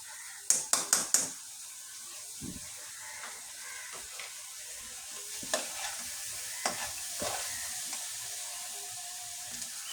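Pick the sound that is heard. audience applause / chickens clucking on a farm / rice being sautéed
rice being sautéed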